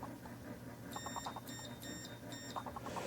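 Several short, high-pitched electronic beeps from an ohmmeter continuity check on a 1964 Chrysler steering shaft ground strap sound in quick bursts over a faint background.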